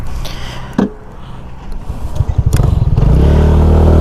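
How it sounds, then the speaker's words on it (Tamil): A TVS Ntorq 150 scooter engine, 2025 model, cranks with a short clatter, then settles into a steady, close, throbbing idle that grows louder and more even toward the end. "அந்த பீட்டு சவுண்டு உங்களுக்கு கேட்குதா? புர்ன்னு ஒரு மாதிரி நல்லா அதர்ற மாதிரி நல்லா இருக்குது."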